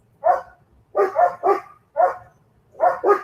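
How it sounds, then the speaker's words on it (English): German Shepherds next door bark repeatedly, single and doubled woofs spaced by short pauses, clear and prominent against a quiet background. "The neighbor has 3 German Shepherds that like to bark."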